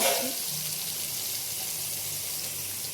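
Pieces of pointed gourd frying in oil in a home kitchen give a soft, even, continuous sizzle, fairly quiet and close, with no talking.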